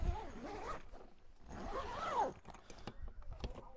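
A zipper on a Thule rooftop tent is drawn closed in a few quick rasping pulls, close and fairly quiet, with some soft handling noises between strokes.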